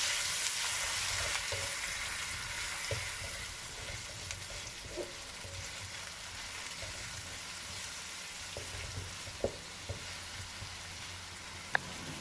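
Black and white ramen noodles with chili and soy sauces sizzle in a pan while being stirred, producing a continuous frying hiss with scattered scraping clicks and taps, close and without talk.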